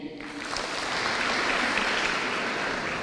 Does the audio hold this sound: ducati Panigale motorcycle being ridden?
no